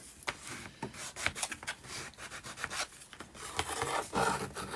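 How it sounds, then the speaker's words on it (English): Sandpaper rubbed by hand along the layered edges of laser board, a close, steady series of rasping back-and-forth strokes with no talking. "those layered edges there I can fine tune with a piece of sandpaper."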